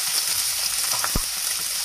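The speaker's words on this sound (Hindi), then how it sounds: "ये मैंने एक कढ़ाई ली थी, उसमें ऑयल गर्म हो चुका है। अब इसमें मैं प्याज डालूंगी।" Onions fry in hot oil in a kadhai, a steady, close, dense sizzle with a brief low knock partway through.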